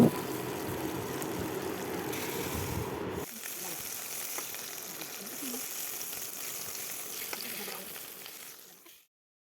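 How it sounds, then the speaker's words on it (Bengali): Hilsa fish fries in mustard oil with a loud, close, crackling sizzle that drops to a quieter, steady hiss after a few seconds and then cuts off. "মাছটিকে আমরা সর্ষের তেল দিয়ে একটু পরিমাণে ভেজে নেব"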